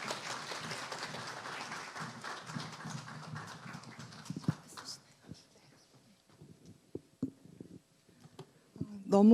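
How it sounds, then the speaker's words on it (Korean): An indoor lecture audience applauds to welcome a guest professor at an economics academy talk: dense, steady clapping for roughly four seconds, then thinning into scattered individual claps and quiet room noise, with a brief voice or tone at the end. "이남희 교수님을 박수로 모시도록 하겠습니다."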